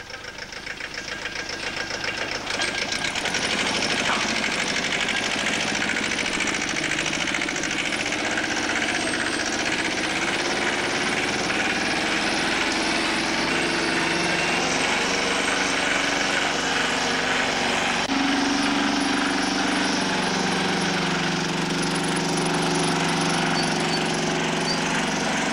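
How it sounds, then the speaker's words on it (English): A 40 horsepower Mariner through-exhaust outboard motor on a lifeboat starts up and runs loudly and steadily at close range, a constant throbbing drone with no talking. "The Mariner outboard, which is a 40 horsepower through exhaust, is started and tested"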